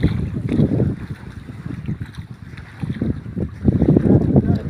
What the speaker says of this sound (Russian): Такой вот катер.